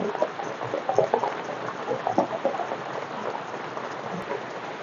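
Biscuit sponge cake batter with a drop of white oil is beaten steadily in a bowl, making a continuous wet, sloshing patter at even, moderate loudness with no voices.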